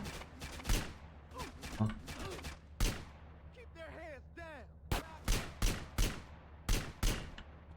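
Bursts of gunfire ring out during a Grand Theft Auto gang war: sharp, loud shots come in irregular clusters, and whistling sounds pass in the middle.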